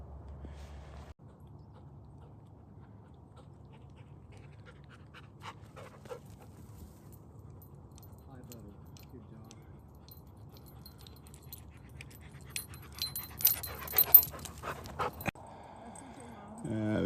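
An energetic dog panting on a mountain walk, soft rapid breaths close by with some jangling near the end, over low outdoor rumble.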